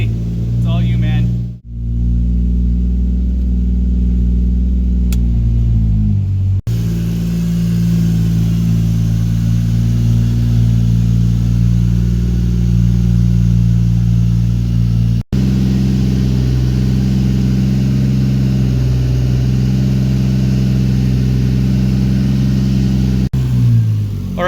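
A Toyota MK4 Supra engine running steadily after starting during a cooling-system bleed, a loud, close, even drone throughout, with a brief dip near the start and a voice talking over it.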